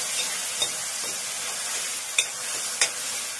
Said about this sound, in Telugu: ఇలాగా కొంచెం ఫ్రై చేసుకోండి